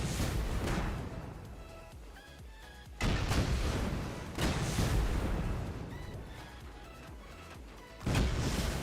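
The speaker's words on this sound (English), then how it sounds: "there is a lot of gunfire going on behind them" Gunfire and explosive blasts during a large raid in the video game Rust, with dense rattling shots and sharp loud bursts at about 0 s, 3 s, 4.5 s and 8 s over a continuous noisy din.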